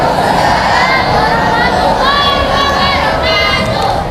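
Crowd of junior high school students at a school assembly in Indonesia shouting a greeting in reply, a loud continuous mass of young voices that holds steady for several seconds.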